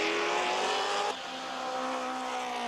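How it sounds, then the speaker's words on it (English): A Can-Am race car at Mosport Park roars loudly past, its high-pitched engine note dropping sharply as it goes by, with a second engine still audible behind it. "There's Miaskiewicz at corner 2, about to lap Cliff Dawson's 2-liter March"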